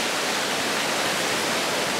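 Continuous airy roar of wind blowing through the trees of a Georgia hunting woods, a dense unbroken hiss that holds steady throughout with nobody talking.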